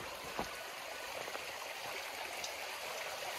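A small forest stream flows with a soft, steady wash and trickle, faint and continuous, with no voices.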